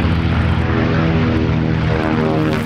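Piston engines of an aging bomber roar loud and close through takeoff and climb, a steady droning rumble with strong propeller harmonics that holds at full power without a break.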